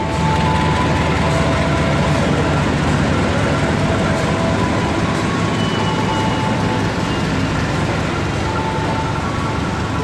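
A train rolls past Bandung Station in Indonesia with steady, loud rumbling and faint rhythmic clatter, mixed with a constant wash of rain noise from a thunderstorm throughout.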